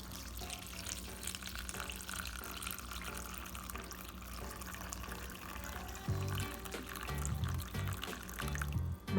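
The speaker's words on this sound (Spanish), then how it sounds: "en este momento vamos a empezar a colarlo con mucho cuidado" Hot brewed coffee is poured slowly through a filter, a soft continuous liquid trickle that stays faint and close, with some heavier splashing toward the end.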